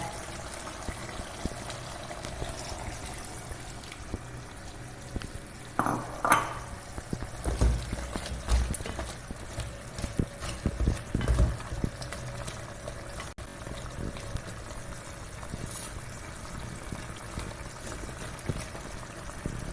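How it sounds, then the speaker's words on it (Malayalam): Coconut milk is poured into a simmering crab roast, and a soft liquid trickle and gentle bubbling run steadily under faint kitchen clatter, with a few brief knocks midway. "ഇനി ഇതിലേക്ക് തേങ്ങപ്പാൽ ഒഴിക്കുക"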